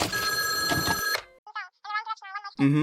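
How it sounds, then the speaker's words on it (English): Telephone ringing with an incoming call in a horror game: a steady electronic bell tone, then a burst of short rhythmic rings, followed by a brief voice. "I'm getting a phone call."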